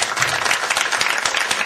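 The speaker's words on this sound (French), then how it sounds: "Voilà, on peut l'applaudir." Audience clapping after a dog jumps at an outdoor canine trick demonstration, a short burst of moderately loud applause with audible individual claps.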